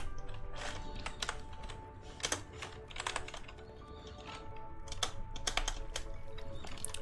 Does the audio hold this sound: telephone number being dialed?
no